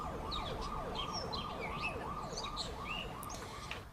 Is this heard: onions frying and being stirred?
no